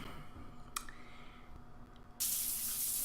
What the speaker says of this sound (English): That night, I took a shower in my room with tears rolling down my face.